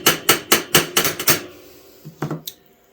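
A hammer taps a pivot pin on a vintage folding knife during peening, with about seven quick, sharp metallic strikes in a steady rhythm, then a pause and three lighter taps.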